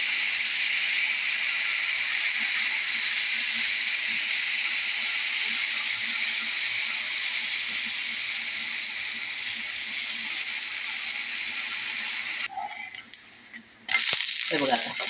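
Jowar flour dosa batter sizzles steadily on a hot pan with a broad, continuous hiss that holds for about twelve seconds, then drops away briefly before a sharp fresh burst of sizzling near the end.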